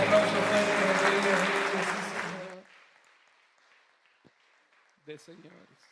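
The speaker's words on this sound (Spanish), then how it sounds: "Dame ese aplauso fuerte" Loud, dense applause from an audience of men at a church men's congress fills the hall, then fades into near silence, with a brief voice and a few faint sounds near the end.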